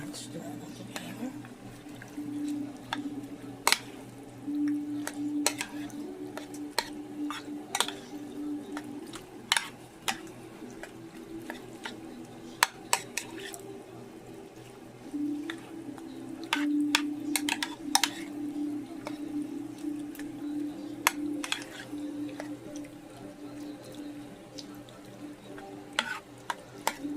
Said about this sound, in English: Stir them together.